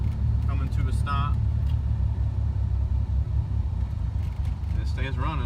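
A 2G Mitsubishi Eclipse DSM 420a engine idles with the air conditioning on, a steady low rumble close by that dips slightly in level, with someone talking over it.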